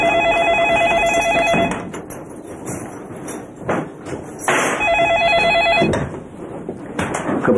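An old telephone bell rings loudly in two long bursts separated by a pause, with clattering and movement noise in the room between the rings.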